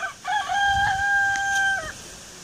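A rooster crows once in a long, drawn-out call, loud and near, with chickens faintly audible in the background and no talking.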